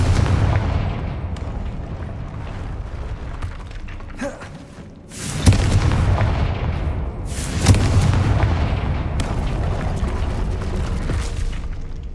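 A Confringo spell explodes in Hogwarts Legacy, with two booming blasts a couple of seconds apart rising over a continuous rumbling game backdrop.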